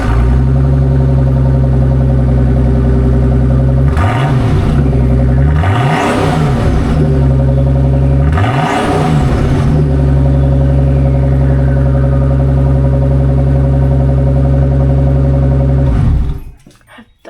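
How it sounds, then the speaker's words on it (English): A 1982 Datsun 280ZX Turbo engine with the muffler cut off and a straight-pipe exhaust idles loud and close, then revs sharply three times with a deep rumbling bark before settling back and cutting off. "So we just cut the muffler off, so we got the straight pipe right now so everybody hear it."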